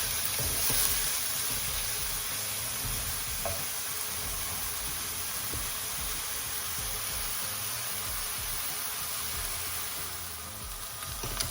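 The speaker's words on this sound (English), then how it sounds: "we're just going to stir this and wait for it to go light to medium brown" Onions fry steadily in a pan while being stirred toward light brown, a continuous hissing sizzle with faint, occasional scrapes of the utensil, fairly quiet and even throughout without speech.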